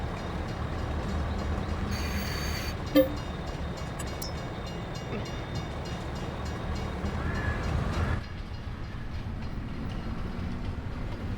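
Train in the video game Farming Simulator 22, heard as a steady low rolling rumble of rail wagons with faint wheel clatter and a brief screech partway through, running continuously and fairly quietly throughout.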